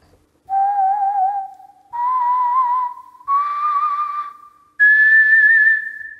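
Sampled voices from the Vienna Symphonic Library Synchron-ized Voices bundle singing short trills, four sustained wavering notes stepping upward in pitch, clear and alone.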